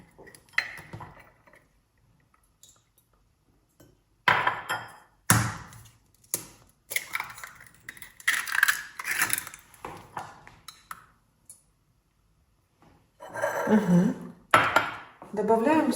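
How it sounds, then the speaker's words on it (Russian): Eggs cracked one by one into a bowl for a Napoleon cake: sharp taps and clinks against the rim come in separate bursts with quiet gaps, close and crisp. "Каждое яйцо разбиваем отдельно, так как может попасть скорлупа или может быть испорченное яйцо."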